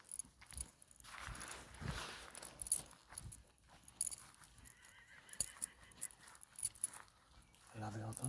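A horse whinnies loudly near the end, after scattered outdoor rustling, faint footsteps and background noise, with soft voices in the distance.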